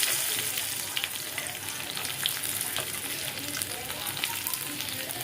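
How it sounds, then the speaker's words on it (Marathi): Steady crackling sizzle of dried Bombay duck fish frying in hot oil in a wok, continuous and close, with faint scraping now and then. "आपल्याला बोंबील तेलामध्ये छान असे भाजून घ्यायचे"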